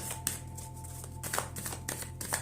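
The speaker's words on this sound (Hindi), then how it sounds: "so first of all card shuffle करेंगे" Tarot cards shuffled by hand in several soft, rapid riffling bursts, close up over a steady low electrical hum, with no one speaking.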